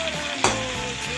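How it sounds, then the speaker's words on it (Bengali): Pointed gourd (potol) frying in a pan over low-to-medium gas, a steady close sizzle with a brief louder burst of stirring partway through, no voices. "এবার এটাকে ততক্ষণ ভাজবো যতক্ষণ না এটা গায়ে লালচে লালচে দাগ হয়"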